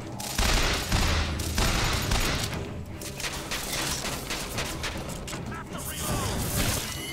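Heavy, sustained gunfire from the video game Bioshock Infinite roars loud and dense throughout, mixed with mechanical clanks and rattles, while a voice talks now and then underneath.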